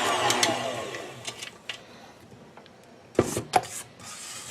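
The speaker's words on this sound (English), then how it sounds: "again we want to stop the mixer and scrape the sides of the bowl." A spatula scraping the sides and bottom of a mixing bowl of lemon cake batter with butter and eggs, a series of soft close rubbing strokes ending in a few louder knocks.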